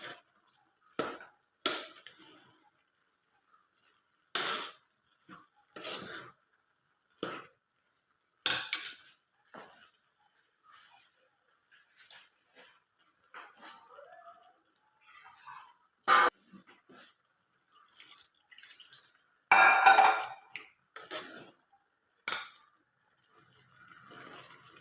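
A spoon stirs avial vegetables with onion, curry leaves and cumin in a pan, giving sparse, quiet clinks and scrapes with short silences between them.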